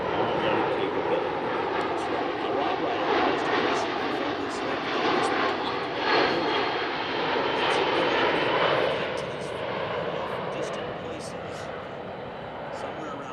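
A USAF C-17 transport's turbofan engines roar steadily through an air show flyby at MCAS Miramar, a broad sustained rumble that eases slightly toward the end, with an announcer talking over it throughout.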